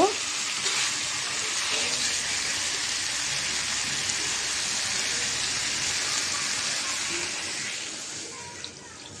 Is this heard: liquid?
yes